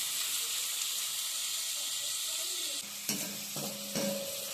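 Onion, tomato and salt fry in oil over a medium flame for a spicy dried Bombay duck masala, giving a steady, gentle sizzle. Near the end a utensil scrapes and clatters against the pan as it is stirred, with no talking.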